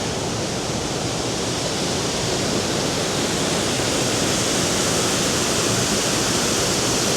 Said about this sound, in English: I'll just leave you with a view of that waterfall.